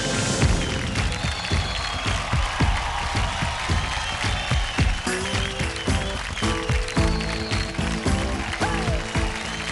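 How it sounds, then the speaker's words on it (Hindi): Studio audience applauding on a TV children's dance competition show, dense clapping with cheering, loud and continuous, mixed with music and rhythmic thumps beneath. "जोरदार तालियां हो जाए इनके लिए।"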